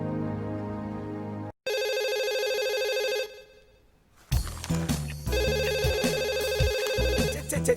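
A telephone rings in a house with a loud electronic ringtone in repeated bursts. A short gap and a quieter stretch break the ringing before it returns strongly.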